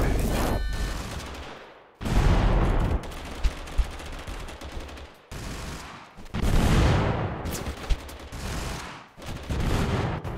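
Heavy gunfire in Totally Accurate Battlegrounds, including musket shots: several long, dense volleys of shooting separated by brief lulls, loud and close, with sharp individual cracks standing out.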